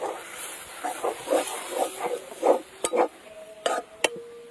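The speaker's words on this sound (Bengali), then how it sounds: "দিয়ে এবার মশলার সাথে আলুটাকে মিশিয়ে নিতে হবে ভালো করে।" Mashed potato worked together with spices by hand in a bowl, producing soft, rhythmic squelching and slapping at close range, followed by a few sharper clicks near the end.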